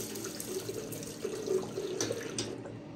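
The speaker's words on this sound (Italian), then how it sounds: "Sciacquata con acqua fredda di montagna," Cold mountain water runs from a tap in a steady, close splashing stream as a face is rinsed after a shave, with small drips and gurgles shifting through the flow.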